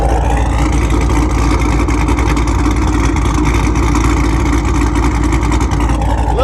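Cammed Chevrolet Camaro SS 1LE V8, tuned to about 510 wheel horsepower, idling with a rough, lopey chop, a loud, close, rumbling engine note pulsing unevenly throughout.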